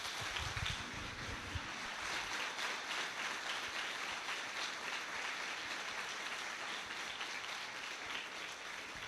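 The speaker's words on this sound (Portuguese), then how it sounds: "Quantos podem aplaudir a Jesus por isso?" A church congregation applauds for Jesus during a sermon, a steady, dense wash of clapping that runs evenly for several seconds with no voices over it.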